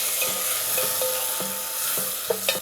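Small onions and chopped tomatoes for sambar sauté in a pan, a steady close sizzle broken by occasional stirring scrapes and clinks, with no talking.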